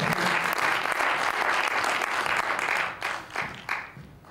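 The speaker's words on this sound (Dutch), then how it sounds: "Geef ze een groot applaus." Applause from an audience at a local business award event, a full steady round of clapping that breaks up into a few uneven final bursts before dying away.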